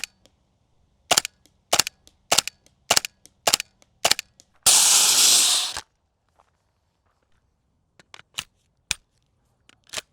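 An airsoft gun fired in a 75-foot range test: about nine sharp, evenly spaced pops, then a second-long hiss of gas, then a few fainter scattered clicks, all close and loud.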